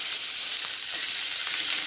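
Lemon juice hits chopped garlic already frying in a hot pan, giving a steady, even sizzle and hiss that continues alone at close range.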